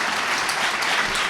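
Brief welcoming applause from a seated audience for a guest speaker, a short wash of steady clapping at moderate level.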